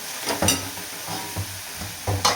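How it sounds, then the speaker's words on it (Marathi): Moong dal sautés in hot oil for a fenugreek and green chili curry, a sizzle broken by several scraping stirs of a spatula against the pan, fairly close. "1 ते 2 मिनिट आपण तेलामध्ये डाळ आहे ती परतून घेऊया"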